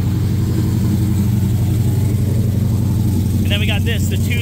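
A stripped-down, lightweight Formula Drift car with a supercharged LS V8 rumbles loud and steady at close range in the pits, a dense low drone with some revving, and a person talks over it.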